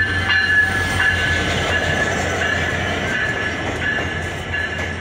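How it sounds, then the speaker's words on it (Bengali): The Khulna-bound down Simanta Express intercity train from Chilahati pulls into Saidpur station with a steady, loud rail rumble and a thin, sustained wheel-squeal tone throughout. "লোকোমোটিভ নিয়ে চিলাহাটি থেকে ছেড়ে আসা খুলনাগামী আন্তনগর ডাউন সীমান্ত এক্সপ্রেস ট্রেনটি বর্তমানে সৈয়দপুর ইন করলো।"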